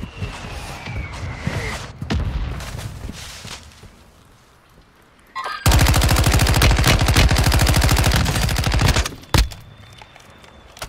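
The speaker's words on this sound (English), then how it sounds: "We're getting sniped from some of the buildings that are down there" Gunfire in a video game, with shots coming from snipers in distant buildings: scattered sharp cracks are followed by a loud, sustained burst of rapid shots lasting several seconds, then a few more isolated reports.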